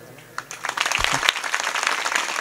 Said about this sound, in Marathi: म्हणून जरा जोराच्या टाळ्या वाजवा ना.